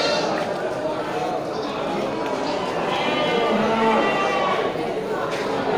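Sheep and goats bleat at a busy livestock market selling animals for Maulid sacrifice, a dense chorus of calls rising over the crowd noise while people talk throughout.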